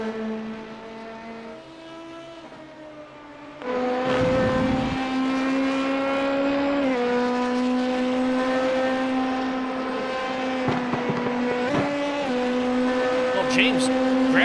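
A race car in a Le Mans sports car event in a video game, its engine droning steadily, then jumping louder about a third of the way in, with pitch steps as gears change; commentary voices run over it.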